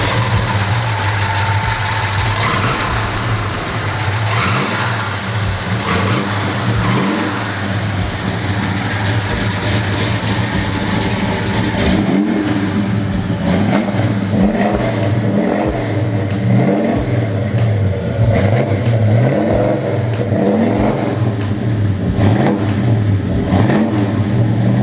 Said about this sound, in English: Most people like just the sound of the car itself.